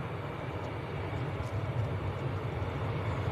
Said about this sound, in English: But that is Austrian, an Embraer 192 of Vienna.